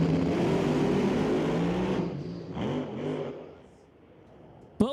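Drag race cars roar loudly on and off the throttle, their engine notes rising and falling in waves before the sound fades, and a sharp bang comes at the end.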